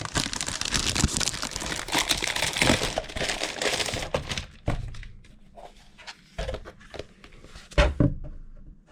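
A Wankul season 4 trading-card binder in its packaging is handled up close. Dense crinkling and rustling of plastic wrap gives way to sparse, sharp handling knocks and thumps in quieter gaps.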